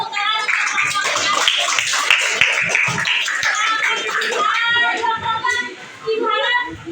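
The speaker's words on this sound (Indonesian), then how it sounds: "Boleh tepuk tangan untuk kelompoknya" Classmates in an Indonesian school lesson applaud a student group, moderately loud clapping mixed with children's chatter and voices throughout.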